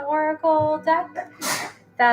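A single quick sneeze bursts out between stretches of someone speaking, loud and close, followed by more talk.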